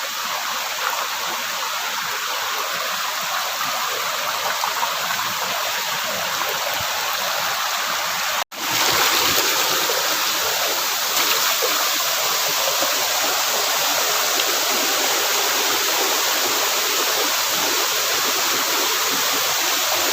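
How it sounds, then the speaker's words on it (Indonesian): A waterfall in dense jungle roars as a steady, loud wash of falling water, continuous throughout with only a brief dropout partway, and no talking. "ini udah nyampe di air terjun, tapi posisinya seperti ini, rimbun saudaraku, sangat-sangat rimbun"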